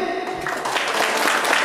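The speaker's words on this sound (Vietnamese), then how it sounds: "Một tràng vỗ tay thật lớn thưa quý vị." Audience applause at a Vietnamese vọng cổ folk-singing stage show, a dense steady wash of clapping running through the whole stretch with voices talking over it.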